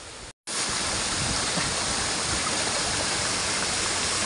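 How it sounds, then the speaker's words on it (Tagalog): Cawayan Falls in Quezon, Philippines, pours with a loud, unbroken roar of falling water heard up close, interrupted only by a brief dropout right at the start. "narito na ako sa pinakamataas na falls dito sa Kawayan Falls"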